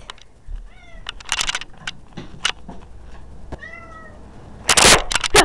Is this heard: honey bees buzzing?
no